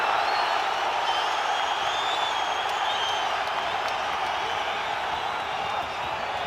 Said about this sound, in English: Crowd trying to rally support for Kambosos here.